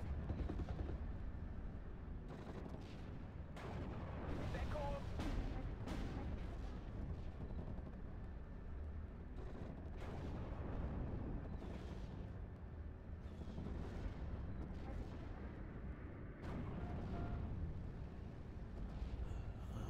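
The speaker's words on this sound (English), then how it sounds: "you can see here the artillery falling on my position" Artillery shells fall on a player's position in the WWII strategy game Steel Division: Normandy 44, a dense continuous rumble of distant booms and blasts layered over sustained battlefield noise for the whole stretch, no voices.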